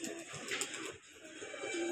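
Domestic pigeons coo softly and faintly over a steady, low background hum, with no voices present.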